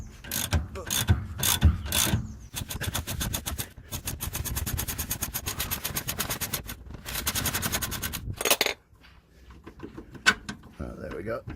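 Hand ratchet loosening a rear shock absorber bolt on a Mazda 3 MPS, rapid close clicking bursts in quick runs separated by short pauses, ending with a few quieter handling noises.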